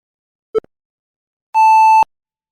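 A small kitchen timer gives a short electronic chirp, then after a pause a single sustained flat beep of about half a second, clear and close in an otherwise silent room.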